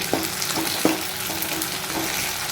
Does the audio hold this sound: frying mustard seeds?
yes